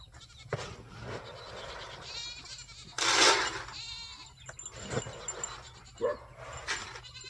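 Several goats bleat in turn, loud cries spaced a second or so apart, with quieter background noise between calls.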